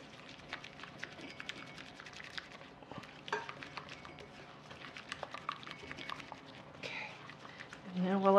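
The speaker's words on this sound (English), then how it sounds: "I'm going to whisk this up till it's well blended. I want to make sure there's no lumps in that sugar." Cream, sugar and vanilla being whisked in a pot for chocolate mousse, with soft irregular stirring and scraping clicks running steadily through the clip and growing louder near the end.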